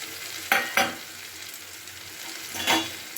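Tomato and spice paste frying with pointed gourd (potol) in a pan, a steady sizzle broken by a few sharp stirring scrapes, close and fairly loud with no talking.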